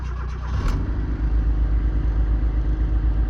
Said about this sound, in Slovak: Idem si ja svoje naštartovať, nech sa to trošku zohreje.